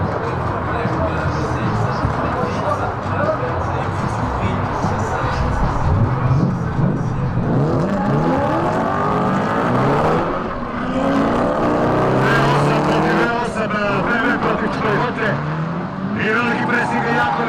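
Drift cars scream through a competition run at the Croatian Drift Challenge, engines rising and falling in pitch as they rev and slide, loud and continuous beneath an excited commentator's voice.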